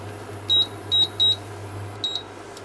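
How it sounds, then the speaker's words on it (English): Short high-pitched electronic beeps sound as a timer is set: three quick tones spaced about half a second apart, a pause, then a double beep, all over a faint low hum in a quiet room. "And finally let's set a timer."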